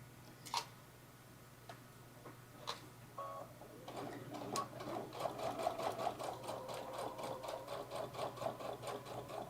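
Stitching a fur tote bag through thick layers, a sewing machine starts with a few separate needle punches, then runs in a quick, even chatter of close, fairly quiet ticks.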